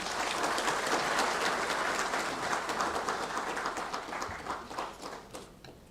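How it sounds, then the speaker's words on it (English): Applause from a workshop audience right after a speech on recycling construction and demolition waste: dense, steady clapping that fills the room and then thins out and fades toward the end. "Can we have another round of applause, please?"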